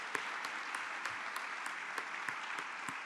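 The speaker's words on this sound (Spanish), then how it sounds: "Démosle un aplauso al Señor, démosle un aplauso al Señor." A church congregation at a sermon applauds in a steady, dense wash of clapping, somewhat distant and soft, with a few sharper claps at regular intervals.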